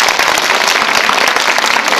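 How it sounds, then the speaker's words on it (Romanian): Loud, dense audience applause in a theatre hall at the National Theatre in Bucharest, close and crackling with rapid overlapping claps that run continuously through the short stretch. "Continuați aplauzele, că nu ați auzit."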